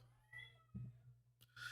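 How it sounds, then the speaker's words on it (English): A cat meows a few times while being fed, close and fairly faint, over a low steady hum with a brief clatter between the calls. "they're feeding the cat, so you're probably gonna hear a lot of meowing"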